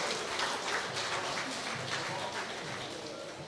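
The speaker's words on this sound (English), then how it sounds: "let's give a round of applause as a former national player" An audience at an awards night applauds a former national netball player with steady, moderately quiet clapping that holds evenly and tapers slightly toward the end.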